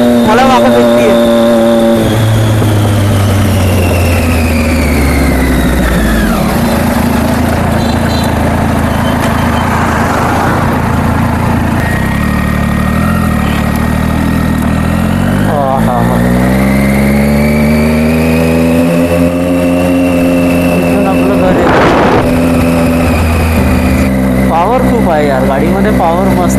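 Motorcycle engine under way on a ride, its revving pitch rising and falling through gear changes and throttle, steady and prominent throughout while someone talks over it.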